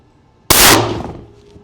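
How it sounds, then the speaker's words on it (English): A single sharp, loud rifle shot from a long-range hunting rifle being fired for a group at the range, with a sudden crack that rings out and decays over about a second. "We're going to just shoot a group so we get an average."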